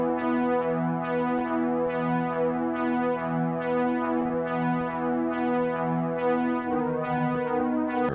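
A synthesizer arpeggiator pattern with automated plugin parameters plays a steady, evenly pulsing run of rich harmonic notes, repeating about every 0.6 seconds with a shifting timbre near the end.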